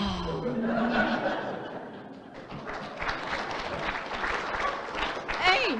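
An audience applauds with scattered chuckles during an Elizabethan costume presentation, a steady patter of clapping that briefly dips and rises again, with a speaker's voice heard near the start and end.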